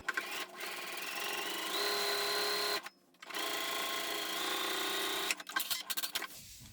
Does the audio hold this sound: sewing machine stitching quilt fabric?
yes